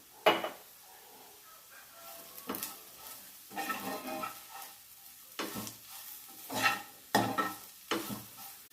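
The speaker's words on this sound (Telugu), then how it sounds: "హాఫ్ స్పూన్ కారం తగినంత ఉప్పు వేసుకుని ఒకసారి మిక్స్ చేసుకోండి" Cauliflower fried rice vegetables with chili powder and salt are stirred in a pan in repeated scraping strokes, each a sharp burst over a soft sizzle, close up and rhythmic.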